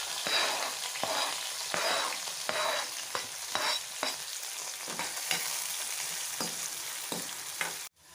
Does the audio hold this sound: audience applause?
no